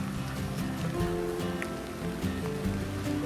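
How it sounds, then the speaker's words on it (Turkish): Gentle rain falling by a river on a farm, a steady dense patter with watery wash running through the whole stretch, no voices. "çok da güzel bir tatlı yağmur yağıyor"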